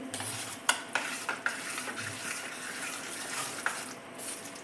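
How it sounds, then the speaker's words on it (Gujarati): Semolina appam batter mixed with coriander is stirred in a bowl, giving a steady wet, squelchy scraping with small clicks of the spoon, close and continuous with no talking. "હવે આ બધું જ વસ્તુને આપણે મિક્સ કરી લેશું."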